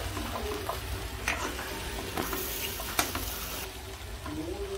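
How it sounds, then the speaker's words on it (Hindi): An onion and tomato tempering sizzles and fries in a pan for gatta ki sabji, with a steady crackling hiss broken by scraping stirs and clinks of the utensil at close range. "ये बन रहा है प्याज टमाटर छौंकन"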